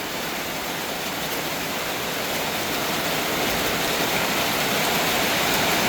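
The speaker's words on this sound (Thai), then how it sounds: "โอ้ฝนสาดฝนสาด" Heavy rain with strong gusting wind pours down in Sakon Nakhon, Thailand, a dense, constant hiss of splashing water, loud and unbroken with no talking.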